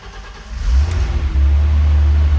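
A BMW E30's engine rumbles and revs up loudly as the car pulls away, a deep steady drone that swells and holds close by.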